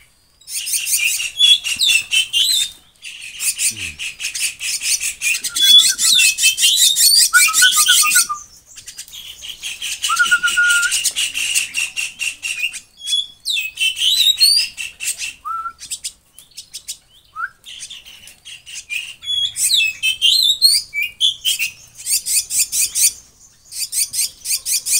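Nestling jalak starlings, five of them, cheep insistently as they are hand-fed in the open, loud overlapping chirps in bursts separated by short gaps, with some flapping.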